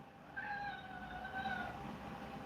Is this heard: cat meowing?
yes